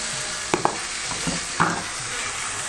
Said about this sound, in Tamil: போட்டு தக்காளி பழம் வந்து நல்லா கொல கொலன்னு ஆகிற வரைக்கும் நல்லா கிளறி கிளறி விடுங்க.